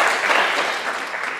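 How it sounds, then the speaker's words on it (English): Brief burst of audience applause in a theater, many hands clapping steadily and fairly loud before beginning to taper off. "All right, so give these human atoms a round of applause."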